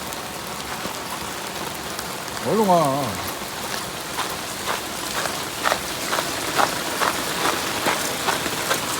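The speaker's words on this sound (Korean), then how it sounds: "비 오는데, 이렇게 비가 오는데." Rain patters steadily on a hard surface all around, with scattered louder drips and a brief voice calling out early on.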